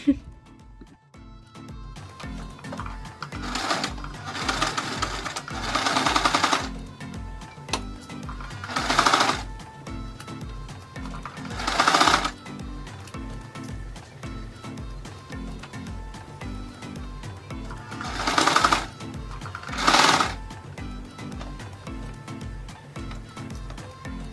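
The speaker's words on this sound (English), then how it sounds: "connected the pieces together. So here's another little sewing ASMR for you guys" A sewing machine stitches cut pieces of a ruched cutout dress together, running in steady whirring bursts with short pauses between them, and it goes on continuously for the whole stretch.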